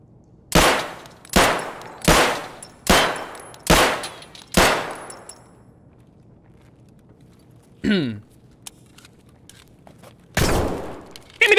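Gunfire in Escape from Tarkov: six loud, evenly spaced shots in quick succession, a lone crack a few seconds later and another burst near the end, with faint voices between the shots.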